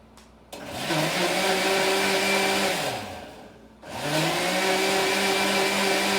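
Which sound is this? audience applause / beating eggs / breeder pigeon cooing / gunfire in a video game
beating eggs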